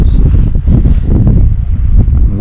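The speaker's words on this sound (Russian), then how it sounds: "Ветер." Steady wind buffets the microphone with a low, continuous rumble, loud and unbroken.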